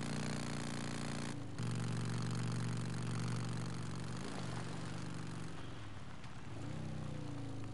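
A motorcycle engine runs in a zombie film, a steady mid-pitched drone with a sharp dip partway through as the revs change, continuing alone without voices.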